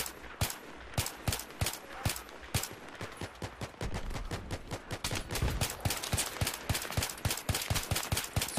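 Rapid suppressive gunfire from a Battlefield 3 match, a relentless string of sharp, closely spaced shots that pound on without pause, loud and near.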